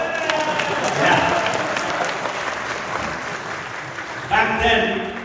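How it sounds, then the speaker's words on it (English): Steady applause from an audience at a film screening fills the room, with a crowd of clapping hands sustained throughout and a fresh swell of claps near the end. "You guys can clap?"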